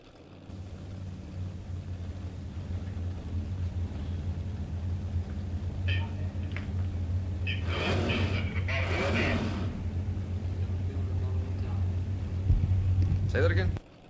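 A Mustang and an Opel GT bracket racing at a drag strip, a low steady engine rumble building through the run, partly covered by bursts of announcer-style talking and a loud burst near the end before cutting off.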